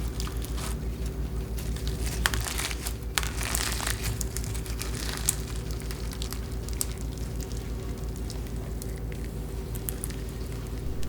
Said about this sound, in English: I'm really surprised that this millefiori slime is actually stretching because it is super full